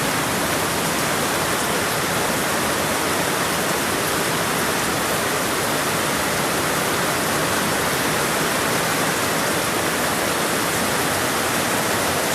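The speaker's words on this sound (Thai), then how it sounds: "ฝน มา แรง มากครับ" Heavy nighttime rain pours down in a steady, dense roar, with water running off in streams; the loud, unbroken hiss continues throughout with no voices.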